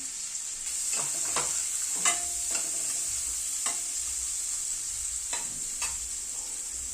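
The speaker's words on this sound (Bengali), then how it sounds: "এবার বিনসটাকে দিয়ে দিচ্ছি। বিনস ভাজতে কিন্তু সময় লাগে না" Green beans stir-frying in a pan for orange fried rice give a steady bright sizzle throughout, broken by repeated sharp spatula scrapes and taps at an irregular pace, close and fairly loud.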